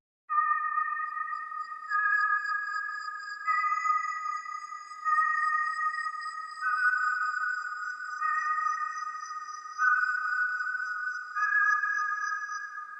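Steady ambient synth power chords pulse in an even repeating pattern, each block held about a second and a half before shifting to the next, clean and sparse.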